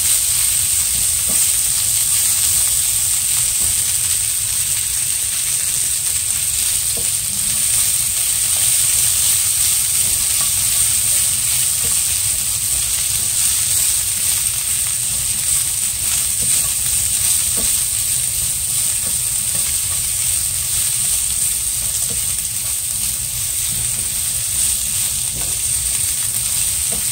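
Bacon and chopped onion sizzle together in a hot pan, a loud, steady frying hiss with faint crackles that runs unbroken for the whole stretch, no voices over it.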